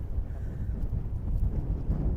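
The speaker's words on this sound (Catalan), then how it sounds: "Fa un vent de Déu." Strong wind buffets the microphone on the Faroe Islands, a steady low roar with gusty swells and no speech.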